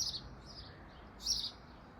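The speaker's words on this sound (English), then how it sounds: "Can you hear the birds in the tree?" Faint, high bird chirps come and go over a low background hum, with a brighter burst of twittering partway through.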